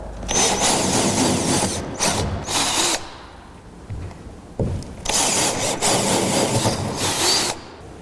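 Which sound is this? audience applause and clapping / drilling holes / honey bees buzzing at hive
drilling holes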